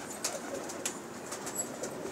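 Pigeons coo softly in a backyard loft, repeated throaty calls at a slow, uneven rhythm with a faint rustle now and then, fairly close but quiet.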